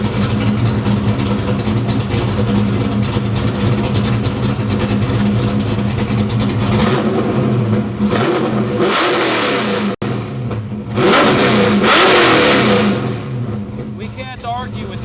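A Ford Mustang Foxbody engine on a dyno, running loudly throughout, with revs swelling in bursts around the middle and end over a steady engine drone, and speech heard under it.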